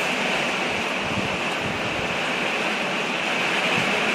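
Rain mixed with strong wind blowing outdoors during a photoshoot, a steady dense rushing roar that fills the whole clip without pause and with no voices.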